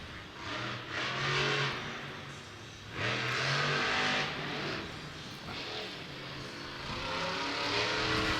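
Black Pearl monster truck engine at Monster Jam in The Dome at America's Center, St. Louis, roaring loudly and continuously, surging in rising revs around the three- and seven-second marks, with no talk over it.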